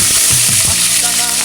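Food frying and sizzling in a large cooking pot during a group cook-up for a donation drive, a steady loud hiss with some stirring clatter near the start, no talking.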